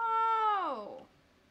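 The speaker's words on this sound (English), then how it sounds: "I meow to get hints." A cat's meow in the video game Stray, one drawn-out tonal call that slides downward at the end and then fades, heard alone and close.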